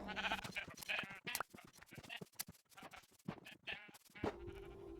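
Sheep bleating on a sheep farm in a video game, several wavering bleats overlapping close and loud throughout with no talk.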